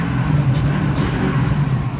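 A Ford F250 pickup truck idles with its engine and exhaust running, a steady low rumble close by that stays even, with no revving and no voices.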